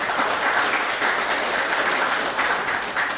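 Sustained applause from the gallery in a sitting of the National Assembly of Belize's House of Representatives, a dense steady wash of many hands clapping that fills the room without a break.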